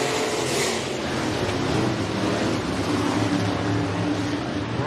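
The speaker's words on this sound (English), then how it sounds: "Cars are stacked up here for this opening heat race in our B Modifieds." B Modified dirt race cars stacked side by side, nose to tail, for an opening heat race start at Rapid Speedway in Iowa, their engines rumbling in a dense, steady roar that holds at a constant loud level throughout.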